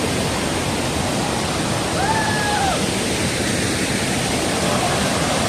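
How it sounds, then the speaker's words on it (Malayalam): Marottichal Waterfalls in Thrissur, Kerala, roar as a steady, loud, broadband rush of falling water that fills the whole scene without a break, with a brief faint tone rising over it partway through. "നല്ല കിടില വാട്ടർഫോൾസ് ആട്ടാ."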